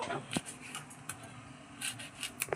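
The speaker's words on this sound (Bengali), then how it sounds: "আবার কেটে গামলায় যে জল আছে জলের মধ্যে আমি কেটে রেখে দেবো" A knife slices washed pointed gourd (potol) into thin pieces over a bowl of water, giving sparse, faint clicks and light scraping taps in a quiet room.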